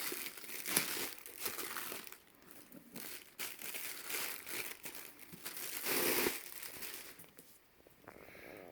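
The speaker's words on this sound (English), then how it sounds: "Let's go ahead and take this cellophane off." Cellophane wrapping is peeled and torn off a cheap Pengke jewelry box, a close, continuous crinkling and crackling with sharper rustling bursts, heard alone.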